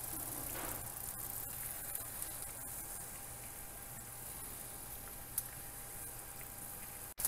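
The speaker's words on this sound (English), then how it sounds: "Okay, it's sizzling now." Eggs sizzle in a pan coated with avocado oil spray, giving a faint, steady crackle and hiss close by with a few small pops, and no one talking.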